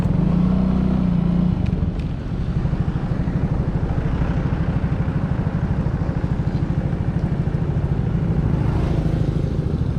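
A small tractor engine chugs steadily with a rapid, even putter, fairly close and loud, continuing without a break, in a rural village.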